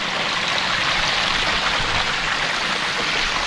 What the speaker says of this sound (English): With the water coming right through the driftwood itself